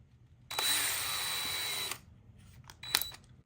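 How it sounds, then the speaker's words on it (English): A power drill whirs loudly for about a second and a half drilling a pilot hole, stops, then gives one brief second burst in a quiet room. "We're gonna go ahead and drill this pilot hole."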